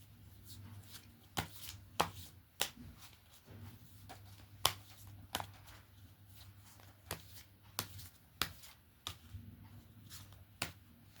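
Tarot cards being shuffled by hand in crisp, irregular bursts of riffling and slapping, close and fairly quiet against a low steady hum, with no talking.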